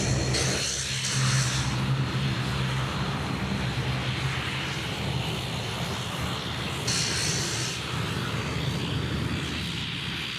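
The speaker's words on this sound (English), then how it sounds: "that was a nice lean departure there from the corner 738" A Boeing 737-800 jet departs from Sydney Airport, a loud, steady engine roar that holds for the full stretch with a brief whining tone near the start, heard alone with no talking.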